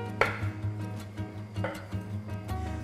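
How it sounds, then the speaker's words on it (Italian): A few sharp knife strikes on a cutting board while chopping food, spaced unevenly over a low background hum, close and moderately loud. "Possiamo iniziare a tritare."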